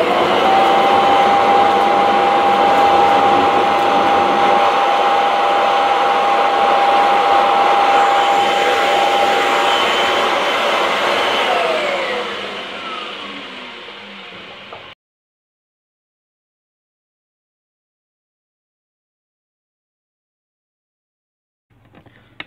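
Kirby vacuum cleaner running during a pick-up test, a loud steady whooshing roar with a whining tone that winds down and stops after about fifteen seconds, followed by silence and a brief faint clatter at the end.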